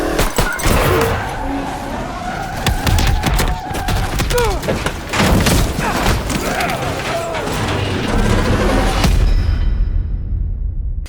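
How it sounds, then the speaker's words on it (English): An over-the-top explosion in the video game Call of Duty Black Ops Cold War, arriving amid a loud, chaotic stretch of bursts, rumbling vehicle noise and clattering impacts that runs steadily for about nine seconds before cutting off. "We go through an incredible over-the-top explosion"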